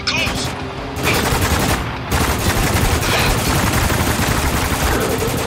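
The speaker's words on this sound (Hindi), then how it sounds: "बहुत ज्यादा गोली मारनी पड़ी उसे" Sustained automatic gunfire in the shooter Spec Ops: The Line, loud and close, with rapid bursts running almost continuously and brief gaps between volleys, a voice talking faintly underneath.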